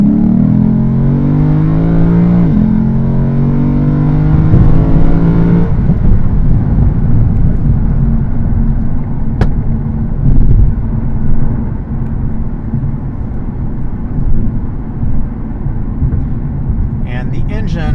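A Lexus RC F coupe's naturally aspirated V8 drives on the Fuji Speedway track, a loud, close engine note that rises under acceleration, then settles into a heavy, steady drone for the rest of the run.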